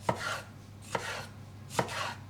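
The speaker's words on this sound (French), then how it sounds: "je peux les couper, voilà, un peu grossièrement en lanières" Three evenly spaced knife cuts slicing a bell pepper into strips thump onto a cutting board, each a quick crisp slice, quiet and close with no talking.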